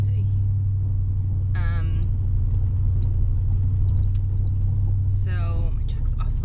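Inside a noisy truck cab while driving, a loud steady low engine drone and road rumble fill the background, with bursts of a voice speaking over the continuous hum.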